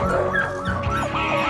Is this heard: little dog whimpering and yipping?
yes